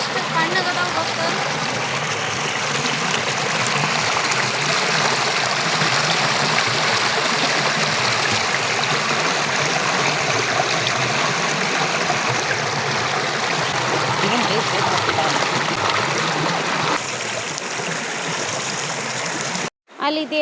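Water pours down from a hill at the Bilagi Siddheshwar temple, a loud, steady rushing stream that fills the scene and stays constant until it cuts off abruptly at the end.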